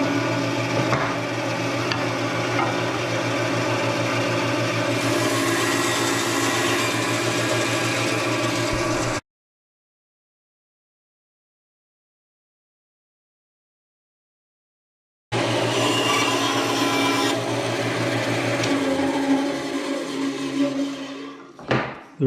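A saw fitted with a 1/4 inch blade cutting curved wooden arches, a loud steady machine drone with a hum, stopping for a stretch of silence, then running again and spinning down at the end.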